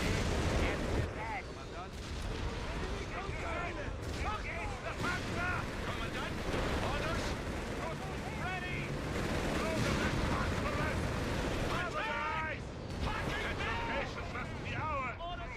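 Stuka dive bomber explosions in Company of Heroes 3 rumble heavily and continuously beneath battlefield noise, with voices talking throughout.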